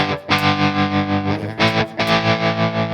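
A sustained electric guitar chord with heavy overdriven distortion from an Enya Inspire Luo TianYi guitar's built-in effects rings out, gently wavering in level, with a fresh strum partway through.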